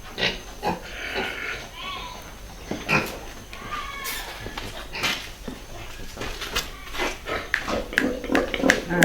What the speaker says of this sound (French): Ici c'est la porcherie. La porcherie, nous élevons les porcs.